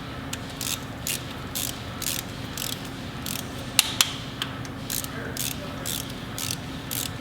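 A ratchet wrench clicks in quick rhythmic bursts while valve cover bolts are tightened on a 2007 Hyundai Azera, close up, with a couple of sharp metallic clinks partway through.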